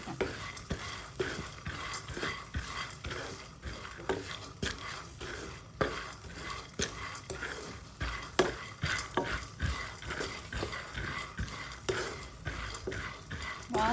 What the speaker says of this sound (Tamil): அதை தான் இப்போ போட்டு வறுத்து வச்சுருக்கேன்